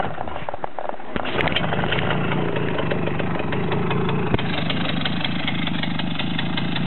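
A Romet motorcycle engine idles steadily and close as the clutch is eased out, a continuous even rumble with a brief rougher stretch near the start.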